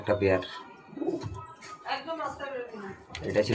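Breeder pigeons coo in soft, low repeated phrases close by, with someone talking over much of it.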